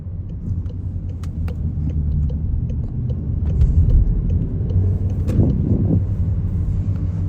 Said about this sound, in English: You just go to a lower gear and let the compression on the engine slow the car down.